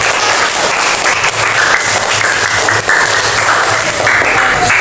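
Steady applause from a classroom audience during a micro-teaching lesson, continuous and fairly loud clapping for several seconds with no talking.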